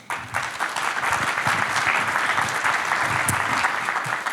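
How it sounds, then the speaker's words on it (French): Audience applause at the Tip & Shaft Connect 2025 conference on grand prix sailing and offshore racing, a dense steady clapping from a crowd that stays loud for the whole stretch with no talk over it. "Vous pouvez l'applaudir, tout à fait."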